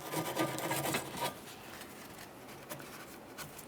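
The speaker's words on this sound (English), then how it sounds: "I'm going to use a wire brush and clean my mounting surfaces" A wire brush scrubs the rear sway bar link mounting surfaces on a 2007-2017 Jeep Patriot, a dense close raspy scraping that is loudest in the first second and a half, then continues more softly.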